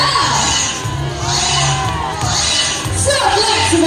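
A large audience at an Ocean Park sea lion show cheers and shouts in sustained waves, children's voices prominent, with applause mixed into the steady crowd roar.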